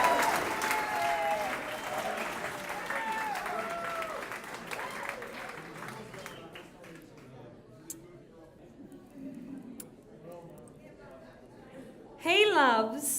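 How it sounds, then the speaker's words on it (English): Wedding guests applaud the mother of the bride at a reception, a steady wash of clapping that slowly thins out over several seconds, followed by a brief burst of cheering or whooping near the end. "Round of applause for Bev McCracken,"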